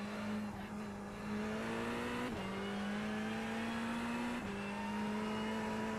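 A Ferrari race car engine at Silverstone in the iRacing sim hums steadily at high revs, its tone climbing gradually and dipping sharply at two gear shifts, loud and continuous with no talk.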